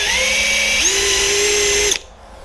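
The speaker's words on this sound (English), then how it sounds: "I'm going to measure and I'm going to drill." A power drill whines steadily for about two seconds, then stops abruptly, boring a hole in a motorcycle handlebar while fitting clip-ons, with one step up in pitch partway through. Close and loud, with no talk.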